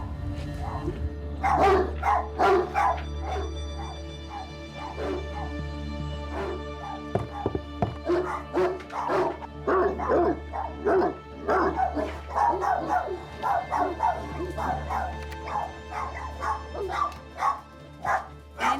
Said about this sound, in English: I can hear the dog from here.